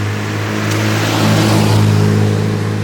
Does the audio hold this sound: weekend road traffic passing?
yes